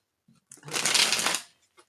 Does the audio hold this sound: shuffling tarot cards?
yes